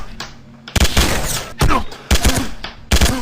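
Gunfire in a shooting video game comes in about four sharp, loud bursts of rapid shots, separated by brief quieter gaps of game background sound.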